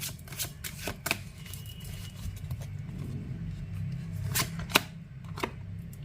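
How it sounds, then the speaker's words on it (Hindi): Tarot cards being shuffled by hand, a series of crisp riffling bursts and soft slaps spread across several seconds, close and fairly quiet over a low background rumble. "अब कुछ और कार्ड्स भी लूंगी मैं"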